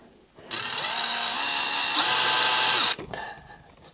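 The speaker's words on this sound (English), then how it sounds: "If ever I'm drilling a hole in something, I start with a small hole first." Power drill boring a hole into a wall, one loud sustained whine of about two and a half seconds that starts abruptly, holds steady and cuts off, recorded close up.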